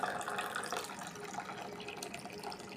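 Hot water streams into a cup for coffee, a soft continuous pouring trickle heard close and fairly quiet, running steadily without voices.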